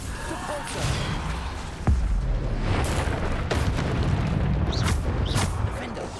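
The Bombarda explosion spell in Hogwarts Legacy sets off a dense barrage of booms and whooshing bursts under constant combat noise, with one sharp blast standing out early and more impacts following.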